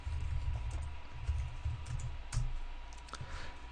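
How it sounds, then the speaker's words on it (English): A password is typed on a computer keyboard running Ubuntu 11.10: a string of light, close clicks over a steady low hum, with no talking. "So go ahead, type in your password."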